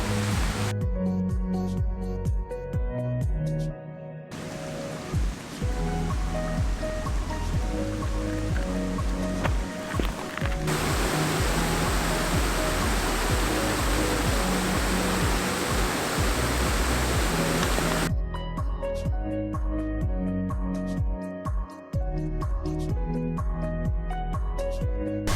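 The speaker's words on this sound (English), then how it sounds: "you might be able to see the waterfalls over there" A waterfall roars as a steady, loud wash of rushing water during a blue-hour astrophotography shoot, set between passages of background music that open and close the stretch.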